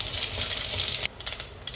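Whole spices (cinnamon, star anise, cardamom, cloves, bay leaf and fennel) hit hot oil for a chicken kurma, giving a loud, close, hissing sizzle for about a second before it drops to a quieter crackle.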